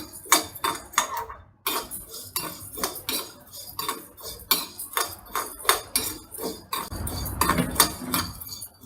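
A spoon scrapes and clinks rhythmically against a pan while Sri Lankan curry powder spices are dry-roasted, with quick, repeated metallic strokes close up and no talking.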